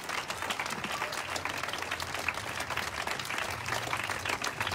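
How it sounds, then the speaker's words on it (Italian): A crowd at a Lega political rally in Bologna breaks into sustained applause, a dense, even wash of many hands clapping that holds steady from start to finish, with faint voices mixed in. "Quindi fatevi un applauso"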